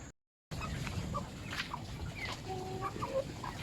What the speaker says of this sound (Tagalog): Ay, alaga pa tayong manok din yun.